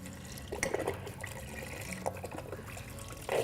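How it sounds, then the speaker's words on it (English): Beef broth poured from a carton into a 6-quart Instant Pot, a soft close splashing and trickling of liquid with a few bumps, quiet overall. "we're gonna add 4 cups of beef broth, which is this whole entire container. I love buying these containers because I don't have to measure, I can just pour it all in."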